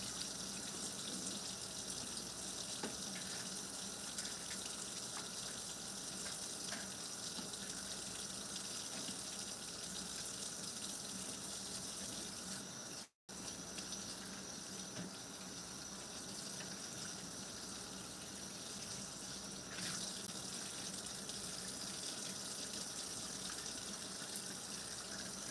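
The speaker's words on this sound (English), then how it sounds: "so let me rinse this tray out." Tap water runs steadily into a kitchen sink while a tray is rinsed, a continuous close gushing broken by one brief silent gap midway, with no talking.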